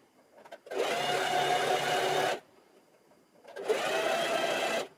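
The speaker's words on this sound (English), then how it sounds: "when I pull through the fabric and I start sewing" A sewing machine stitching fabric for an XL scrunchie runs in two steady, loud whirring bursts of about two seconds each, separated by a quiet pause, close by with no talking.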